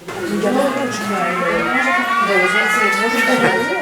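A wailing air raid siren in Ukraine rises and falls in long sweeping tones, loud and sustained throughout, with no talking.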